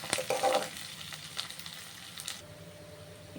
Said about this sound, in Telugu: ఆనియన్స్ బిన్న వేగుతుంది అన్నమాట